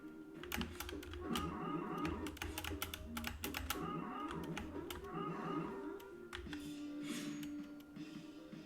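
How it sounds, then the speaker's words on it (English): Computer keyboard keys pressed in quick, irregular clusters of sharp clicks while playtesting a game, heard up close over steady game music. "I am pressing Z and the arrow key"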